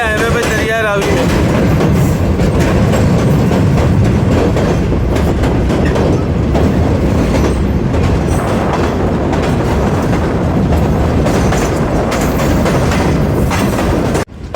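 Tezgam Express passenger train of Pakistan Railways runs on the tracks near Lahore with a loud, continuous rumble and rhythmic clickety-clack of wheels, recorded close from on board for the whole stretch.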